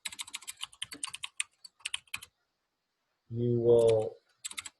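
Rapid clicking keystrokes on a computer keyboard come in quick bursts, with a brief spoken phrase between them.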